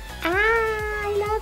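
A single drawn-out cat meow, clear and close, rising then holding steady before fading, with a faint low hum underneath.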